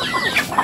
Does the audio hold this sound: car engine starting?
no